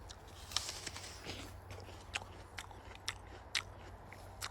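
Crisp bites into a fresh early-season apple during an apple taste test, a few sharp crunchy snaps followed by close chewing over a steady low room hum, with no talking.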